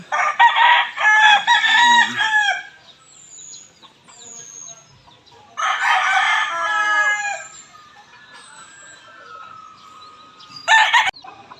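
Gamefowl stags crow loudly and nearby in long calls, with softer clucks and chirps in the pauses between, and a final short crow near the end.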